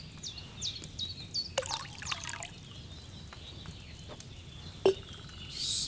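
Wine is poured into a cauldron in Kingdom Come: Deliverance II as a faint, trickling liquid pour with soft splashes and a few clinks, over quiet ambience with chirping birds and no speech.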